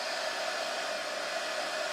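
A hot drying tool blows steadily on a craft project, giving a constant, loud, even whoosh with a whine and no pauses.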